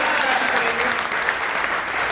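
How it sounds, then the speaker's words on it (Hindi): A seminar crowd at a business-building event claps together in sustained, even applause, loud and close, filling the whole moment without a break. "Give them a big clap."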